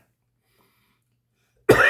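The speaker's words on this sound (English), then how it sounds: "so I got a little cough there" Silence, then a single abrupt cough close to the microphone at the very end.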